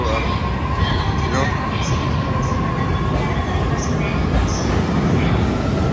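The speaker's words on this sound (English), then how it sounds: "the train, Narita Express, which train was moving now" A Narita Express train rumbles steadily past at close range, with broad rolling noise and faint high squeals from the wheels throughout.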